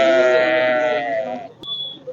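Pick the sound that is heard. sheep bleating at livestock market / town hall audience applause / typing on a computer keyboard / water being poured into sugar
sheep bleating at livestock market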